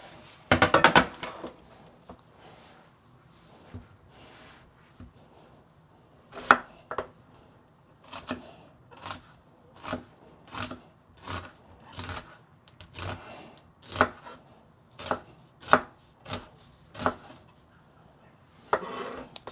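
Vegetables chopped on a board with a knife, a run of about a dozen sharp, evenly spaced close knocks after a few scattered clatters of kitchenware, no voices.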